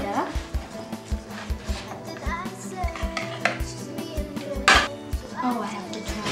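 Utensils clink and scrape against a bowl as a salad dressed with honey and sprinkled with nuts is stirred, a quick series of close, light knocks over a steady hum of kitchen background.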